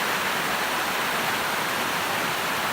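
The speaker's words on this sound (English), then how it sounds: "It has this creek flowing through it" Creek pouring over a large rock waterfall beside a cave on the Georgia Pinhoti Trail, a steady loud broadband rush of falling water with no other sounds.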